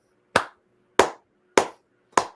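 Four sharp hand claps spaced evenly about two-thirds of a second apart, each a crisp, close smack with a quick fade, standing alone against silence.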